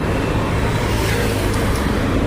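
A car drives along a rain-flooded road, producing a continuous broadband wash of tire spray and engine rumble, steady and fairly loud for the whole stretch with no voices.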